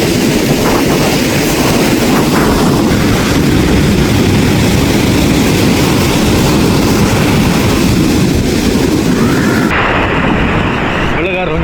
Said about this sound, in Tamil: அவ்வளோ அலையா வந்து அடிக்குது